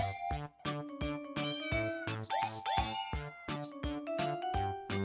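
A cat meows repeatedly in a steady series of short, close calls, with a couple of longer, rising cries in the middle.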